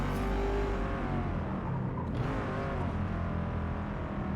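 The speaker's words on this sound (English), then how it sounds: "Listen to all that screeching, all the sliding around this thing does." A pink car sliding around in the Forza Motorsport racing game, with a continuous loud engine drone and tire noise throughout, rising briefly mid-way and holding steady without pause.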